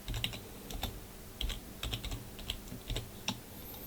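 Fingers type quickly on a computer keyboard, an irregular stream of close, crisp key clicks and soft thuds with short pauses between bursts, in a quiet room.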